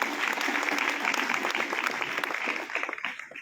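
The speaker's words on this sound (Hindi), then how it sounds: "उनके लिए जोरदार तालियां" An audience at an award ceremony claps as a prize winner comes up to the stage, a lively, close burst of many hands that holds steady and then thins into scattered claps near the end.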